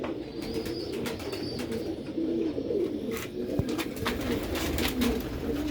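Pigeons on a rooftop coo in soft, low, repeated calls over a constant outdoor background hum, with scattered short clicks and rustles from nearby birds.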